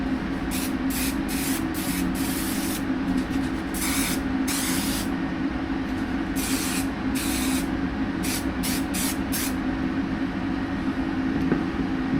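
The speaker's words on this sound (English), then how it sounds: "Spray a little bit across this bottom edge." Steady hiss of an aerosol spray can, held continuously with brief louder bursts, close by and with no voices.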